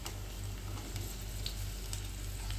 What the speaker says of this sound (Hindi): शिमला मिर्च के पीसेस को डाल देंगे